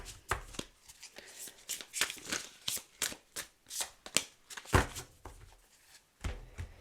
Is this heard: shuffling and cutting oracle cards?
yes